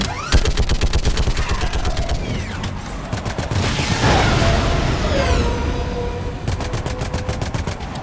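Mounted gun firing in the video game Mass Effect 3, rapid evenly spaced automatic bursts with loud blasts and debris between volleys, continuing to the end.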